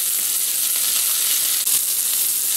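A pork chop with maple Dijon glaze sears in a hot pan with a steady, close, bright sizzle that runs the whole way through, broken only by a brief crackle near the end. No voices are heard.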